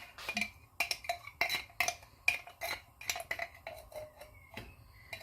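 A spoon repeatedly scrapes and clinks against a container, working leftover jalebi batter out in quick irregular taps and scrapes, close and fairly quiet with no speech.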